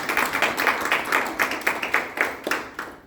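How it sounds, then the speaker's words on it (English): An audience applauds a guest speaker named Rodney with close, rhythmic clapping at a steady tempo. "Can we all give him a round of applause?"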